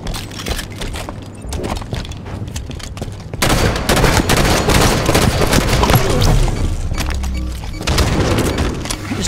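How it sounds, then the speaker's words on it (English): Rapid gunfire and explosive booms in a Halo 5 multiplayer Betrayal match, dense overlapping shots with a sharp burst of heavier fire midway, loud and continuous with scattered footsteps; the shots do not single out one pistol. "I got the Captain America pistol."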